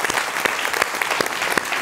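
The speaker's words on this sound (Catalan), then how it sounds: "Un aplaudiment per la Glòria." An audience gives Glòria a round of applause, a dense, close burst of many hands clapping with a few sharper claps popping out, steady for a couple of seconds.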